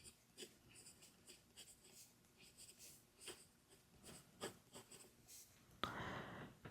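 A Platinum 3776 fountain pen with a coarse nib scratches across paper in short, close strokes, quiet and rhythmic, ending in a slightly louder rustle.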